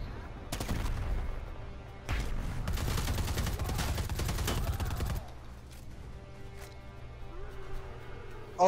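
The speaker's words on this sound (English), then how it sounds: "And more grenades!" Predator: Hunting Grounds gameplay with grenade explosions and gunfire: dense, loud bursts of rapid firing and booming blasts fill the first half, then a quieter rumbling tail follows.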